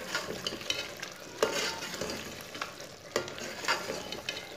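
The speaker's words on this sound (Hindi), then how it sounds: "गरम मसाला डाल लेंगे ये सभी अच्छी तरह मिक्स कर लेंगे" Mutton curry seasoned with garam masala is stirred in a pot, the spoon scraping in rhythmic strokes over a constant close sizzle of frying, with no talk.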